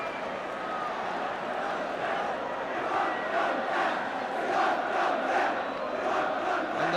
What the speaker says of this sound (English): cry from the crowd is, we won't go down